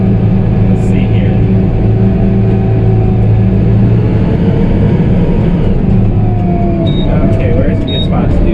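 A vehicle engine pulling in fifth gear with front wheel assist engaged on slippery winter ground, a loud, steady, close rumbling drone that holds throughout without a break.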